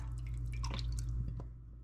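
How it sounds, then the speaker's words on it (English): A brief trickle of Worcestershire sauce splashing and dripping into a pot of broth, close by, over a steady low hum. "I do wanna add some Worcestershire sauce. I'm gonna add that to the broth."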